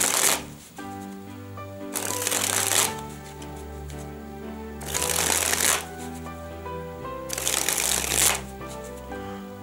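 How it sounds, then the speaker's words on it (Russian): Playing cards sprung from one hand to the other in a spring flourish, three loud riffling bursts of about a second each at a steady rhythm, close up, with a faint musical background between them. "Вот таким вот образом мы перекидываем карты из одной руки в другую."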